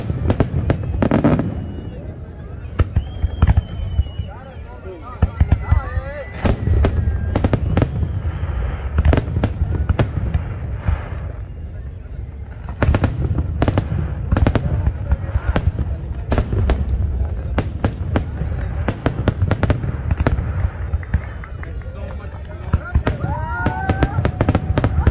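Fireworks at a 92nd Saudi National Day display pop and bang in rapid, irregular bursts across the whole stretch, loud and fairly close, with clusters of crackling reports and people talking throughout underneath.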